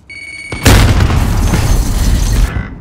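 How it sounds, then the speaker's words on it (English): A grenade detonates in a video game firefight: a sudden, loud, close boom about half a second in, followed by roughly two seconds of heavy rumbling before cutting off abruptly. "Throwing grenade."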